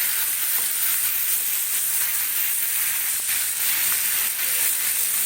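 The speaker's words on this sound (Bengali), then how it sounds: "সবজিটাকে যত সুন্দর করে ভাজা হবে, ভাজা মানে এইভাবে কষানো হবে" Steady, hissing sizzle of vegetables frying in a pan, continuous and fairly loud, with faint stirring scrapes now and then.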